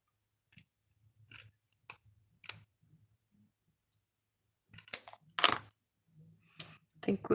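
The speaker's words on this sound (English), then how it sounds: "I'm going to trim off some of the leaves on this one too." Scissors snip leaves off artificial flowers during a craft session, a scattered series of sharp close cuts, a few near the start and a denser cluster toward the end, with quiet pauses between.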